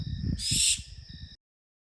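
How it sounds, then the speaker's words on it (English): A loud, harsh screeching owl call bursts out briefly over a low rumbling background, then cuts off, leaving faint steady chirping. "nothing to worry about, just a screeching owl"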